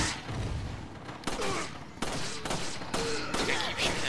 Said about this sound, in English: Just gotta keep shooting him.